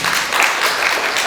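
Audience applause at a Korean financial investment forum in 2022: dense, steady clapping from a large seated crowd filling the hall, loud and continuous for just over a second with no voices on top.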